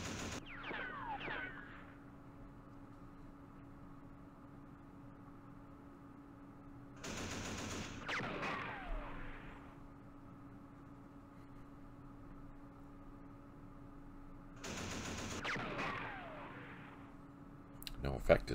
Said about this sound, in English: And we're taking losses by anti-aircraft guns.